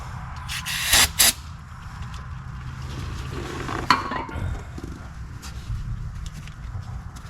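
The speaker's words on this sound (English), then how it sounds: "some brake clean time" Brake cleaner is sprayed from an aerosol can onto an oily truck part in a couple of short, loud hissing bursts, followed by faint handling noises and quieter shop ambience.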